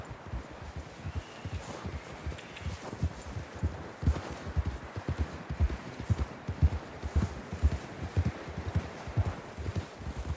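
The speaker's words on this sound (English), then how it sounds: "John was riding that horse when we left Blackwater" Horse hooves clip-clop in a steady, close rhythm on the ground during a blizzard in the Red Dead Redemption II video game, with soft rustling wind behind.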